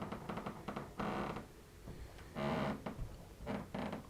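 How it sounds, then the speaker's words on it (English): Old wooden floorboards in a reputedly haunted house creak under weight in several drawn-out groans, some louder and closer than others, with quieter shuffling between them during a night investigation. "These floors do be creaky."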